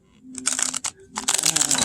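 Zodiac Tarot Mini cards being shuffled by hand: several quick bursts of crisp, papery flicking and slapping, close and fairly loud, separated by brief pauses.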